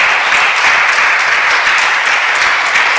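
A church congregation applauding during a service, a loud, continuous wash of many hands clapping together at close range with no pauses.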